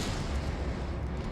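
Incendio fire spell cast in the video game Hogwarts Legacy, a heavy, rumbling burst of flame with a deep booming low end that roils continuously for the whole short moment.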